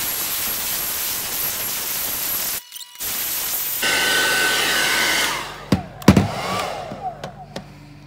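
Hair dryer blowing steadily over silver metallic paint, a loud continuous whoosh that cuts out briefly, returns stronger, then gives way to a few clattering knocks near the end.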